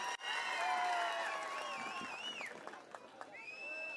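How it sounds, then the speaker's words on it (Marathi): A crowd at a Marathi political rally in Parner claps and cheers for a speech. Loud, dense applause mixes with shouts and whistles, then thins out toward the end. "त्यांच्यासाठी जोरदार टाळ्या वाजवा"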